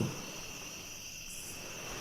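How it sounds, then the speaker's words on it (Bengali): Crickets chirp steadily at night beside the sea, a continuous high, thin trill that stays faint and even throughout, with a soft low background wash and a small bump at the very end. "বাতাসে ভেসে বেড়াচ্ছে ঝিঝি পোকার ডাক আর সমুদ্রের জলের শব্দ"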